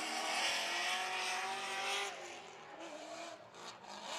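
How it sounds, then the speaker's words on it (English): A Corvette race car engine roars at high revs, loud and sustained, then drops slightly in pitch and intensity partway through as it pulls away. "You gotta love the sound of that Corvette, man. Absolutely ripping it."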